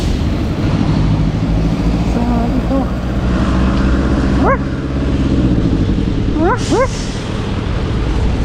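A dog on a Singapore street at night gives a few short, fairly distant barks over steady traffic rumble, while people talk nearby.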